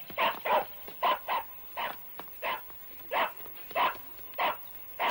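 A dog barks repeatedly in quick pairs and singles, moderately close, keeping a steady insistent rhythm throughout.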